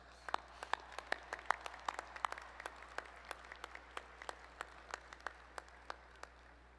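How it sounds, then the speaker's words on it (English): Scattered, faint claps ring out across a quiet hall at a university art and design commencement ceremony, roughly two dozen distinct slaps in an uneven rhythm, sounding distant and thin rather than like a full crowd. "of well-deserved applause."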